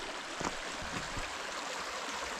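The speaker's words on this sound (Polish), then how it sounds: "posłuchać szum wody" A swollen mountain river rushes through a forest at high water, giving a steady, soft, broadband hiss of flowing water that stays fairly faint and distant, with no voices.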